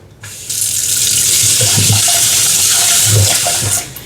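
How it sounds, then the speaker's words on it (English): Water gushes steadily from a tap into a pot for a few seconds, with light clinks in the middle, then cuts off. "Throw some water in here."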